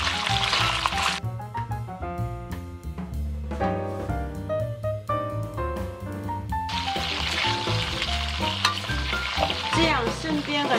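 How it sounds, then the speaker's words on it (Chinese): Pork spare ribs stir-fry slowly in a wok for sweet and sour ribs, a loud, continuous oily sizzle that is clearest at the start and end, with music playing over it throughout. "我们就这样慢慢煸炒。"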